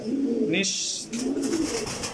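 A pair of silver racing pigeons cooing softly in low, throaty bursts, with someone talking over them close by.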